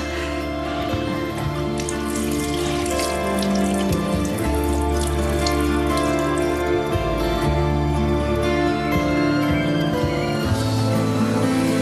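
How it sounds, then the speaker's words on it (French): Water runs steadily from a tap into a sink, a continuous splashing hiss with shifting gurgles, close and fairly loud. "Ouvre le robinet."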